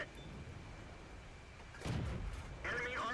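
The T21 light tank's gun fires in a tank video game. Two muffled booming shots come about half a second apart, each with a rumbling tail, over a steady engine hum.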